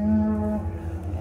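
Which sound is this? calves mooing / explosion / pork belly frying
calves mooing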